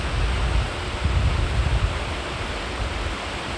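A clear mountain river in Yaremche rushes steadily, a broad, unbroken roar of flowing water close by, with no voices over it.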